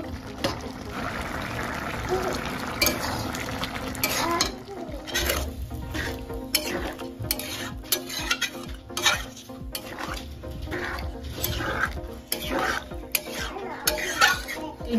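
A spoon stirs chickpea curry in a pan with repeated scraping and clinking strokes over a low sizzle, close and busy throughout, with no voices.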